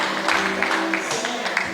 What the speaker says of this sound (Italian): Sartoria Francesca, un applauso